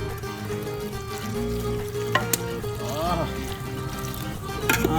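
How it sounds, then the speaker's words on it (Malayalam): Coconut milk going into a simmering Kerala duck curry, with a steady close sizzle and bubbling and a brief stirring swirl partway through. "നമ്മുടെ തേങ്ങാപ്പാൽ നമ്മൾ ഒഴിച്ചു കൊടുക്കാനായിട്ട് പോവാണ്"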